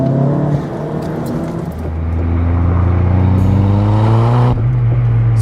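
A 340 hp VW Polo GTI swapped to a six-speed manual accelerates hard, with its engine note climbing steadily through the revs, dropping briefly at a shift, then rising again, loud and close with no talking.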